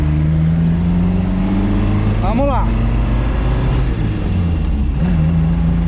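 A classic Fiat 1500 Rally race car on the move: a loud, steady engine drone with a tonal hum that shifts pitch briefly, as if the revs change, while someone speaks a few words over it.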